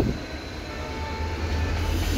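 A small train at a station rumbles steadily with a low, continuous rolling drone, heard from close by and with no voices.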